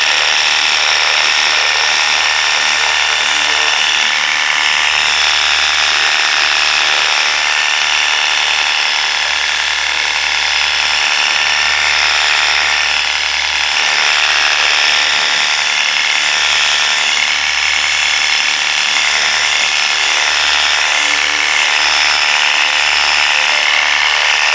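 Worx WG633 Hydroshot 20V cordless pressure washer spraying a vehicle, giving a steady, loud hiss of water jet that runs unbroken for the whole stretch, with no talking.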